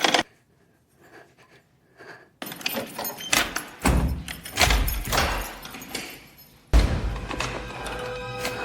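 A steel prison door slams shut with loud heavy metallic thuds and clanks, preceded by quieter shuffling and scraping, then a lingering rattling resonance.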